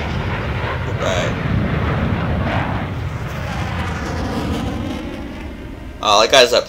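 An airplane in the game Ace Combat Infinity roars with a steady engine drone, while people talk over it and a brief burst of sound cuts in near the end.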